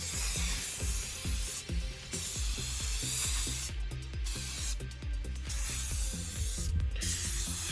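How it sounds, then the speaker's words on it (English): A continuous hiss of spray paint from an aerosol can onto a Roland AX Edge keytar, close and steady, briefly interrupted by a few short pauses between longer bursts. "I'm going to spray it more continuously this time."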